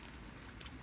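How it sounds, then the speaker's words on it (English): Rain falling on a soaking wet, rotten-weather day, a steady close patter of drops throughout with no voices. "Raining, rotten weather."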